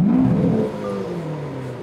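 A Lamborghini Aventador fitted with a custom exhaust fires up and revs, a loud close engine roar that rises, then settles into a steady rumbling idle.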